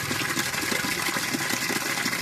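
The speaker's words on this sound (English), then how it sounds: "Okay, I'm gonna put water to cover it." Water pours into a cooking pot over an open wood fire in an African village, a continuous close gushing splash with a faint rhythmic texture and no talk.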